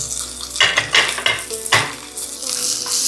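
Curry leaves, green chillies, ginger, cloves and black pepper sizzling in hot oil for a Gujarati kadhi tempering, with sharp crackling bursts and a spoon stirring against the pan, close and loud.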